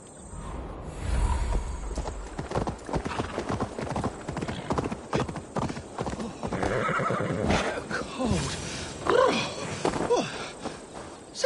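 Horse hooves clip-clop steadily through a street scene in Assassin's Creed Mirage, with a horse neighing and whinnying partway through, set against background ambience and occasional voices.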